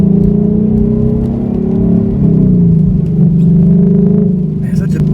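Ford Mustang GT S550 V8 exhaust in track mode, a loud, deep, close rumble that holds steady, swells slightly midway and settles, with a faint higher rattle near the end.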